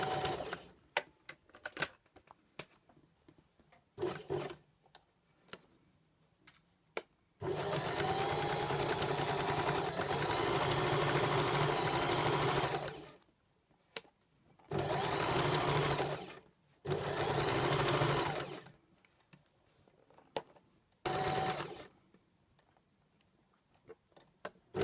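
A sewing machine stitches a shirt collar seam in several separate runs, one long burst and a few shorter ones, with quiet handling sounds and clicks between them.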